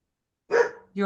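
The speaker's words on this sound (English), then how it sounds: "I'm so sorry about my dog barking." A dog barks somewhere behind two closed doors, sounding muffled and distant, with a short burst of barks followed by a brief second one after a stretch of silence.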